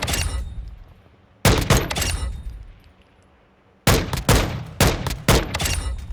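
FTAC Recon rifle firing in Call of Duty Modern Warfare II: two close, sharp shot pairs in quick succession, then after a quiet gap a longer run of several loud cracks, no talking.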